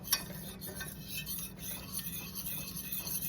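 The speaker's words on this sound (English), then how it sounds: "You'll continue to stir this because you don't want it to stick." A utensil stirs a tangzhong paste of flour and milk in a pan, giving soft continuous scraping and light clinks close up over a low steady background, with no talking.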